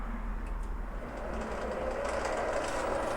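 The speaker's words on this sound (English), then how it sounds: "Hear how much noise it makes now with the lead screw engaged." A Little Machine Shop 7x16 mini lathe, model 7350, runs with its lead screw engaged. The gears give a continuous loud whirring grind with a low hum, steady and close throughout, and no one speaks.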